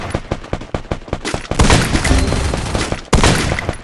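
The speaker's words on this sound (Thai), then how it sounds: "เดี๋ยวผมจะยิงให้ดูตัวข้างหน้านะครับผม" Gunfire in the mobile shooter Free Fire: a quick string of sharp individual shots, then a dense, loud burst of rapid automatic fire, and one more hard crack near the end.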